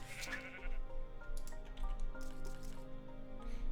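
Sheep bleating inside a block-building video game, a few wavering bleats over steady game music and ambient background, moderately loud and without talk.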